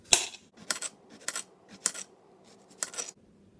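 A knife slices zucchini into circles on a cutting board, five sharp, separate chops spaced about half a second apart, close and clear, with no talking.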